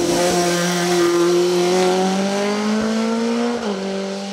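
A Martini MK25 historic race car drives close by with a loud, steady engine drone that climbs slightly in pitch, then dips briefly near the end as the driver shifts or lifts off.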